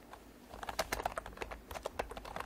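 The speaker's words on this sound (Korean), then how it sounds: "이렇게 키보드 치는 소리도 들어가고요." Keys clatter on a computer keyboard in a quiet indoor room, a quick irregular run of soft taps picked up close by a RODE NT-USB Mini USB microphone, with no talking.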